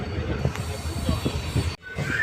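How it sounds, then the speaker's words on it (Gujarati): Passenger train running between Jetalsar and Vadal in Gujarat, heard from inside, with a steady rumble and rhythmic wheel clatter, a brief dip near the end, and faint squeal over the noise. "આપણી ટ્રેન નીકળી ચૂકી છે જેતલસરથી નવ ને સાત મિનિટે જેતલસરથી ઉપડી છે"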